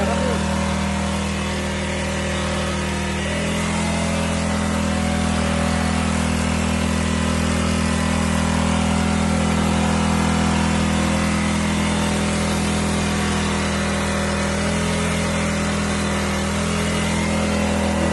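A three-cylinder pressure pump runs steadily for the whole stretch, giving a loud continuous mechanical drone with a low, even hum and no pauses.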